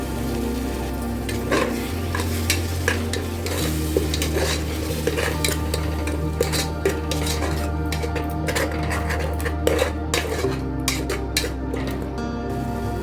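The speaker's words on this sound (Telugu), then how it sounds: "ఆయిల్ సపరేట్ అయ్యేంత వరకు ఫ్రై చేసుకోవాలి" Tomato paste for a tomato pulav fries in oil in a pan, with a steady close sizzle and repeated metal-on-pan stirring and scraping clinks throughout, with no talking.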